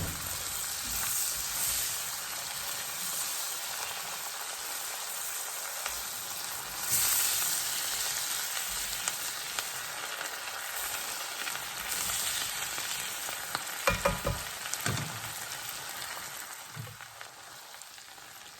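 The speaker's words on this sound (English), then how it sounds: "Onions and garlic have sauteed for about 2 minutes." A whole chopped onion and two tablespoons of garlic sauté in a hot pan, giving a steady, soft sizzle and crackle, with faint stirring scrapes and a few small clicks near the end.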